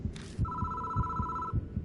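Telephone ringing in the horror video game Death Mark, a steady electronic ring tone over a low rhythmic throbbing pulse like a heartbeat.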